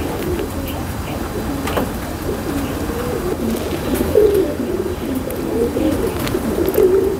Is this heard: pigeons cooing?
yes